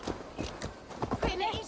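Horse hooves clip-clop in the Assassin's Creed Valhalla video game, a series of close, irregular hoofbeats mixed with game sounds while someone talks over them.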